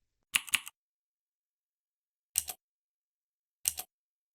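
Keys tapped on a computer keyboard to enter a Windows shutdown command, heard as a quick double burst of clicks followed by two more short, separate clusters of taps, close and fairly quiet.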